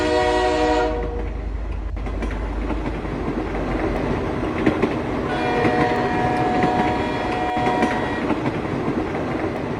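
Train moving, used as a horror story sound effect: opens with a loud horn blast, then a steady rolling rumble with faint clickety-clack and brief horn-like tones, continuous and fairly loud throughout.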